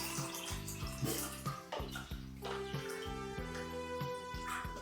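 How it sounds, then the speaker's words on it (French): Liquid pouring into a 500 ml shaker, a bubbling, rising stream with glugging pulses that climbs in pitch as the container fills, close and alone. "on va se remplir ce shaker. Un petit 500 ml des familles les amis"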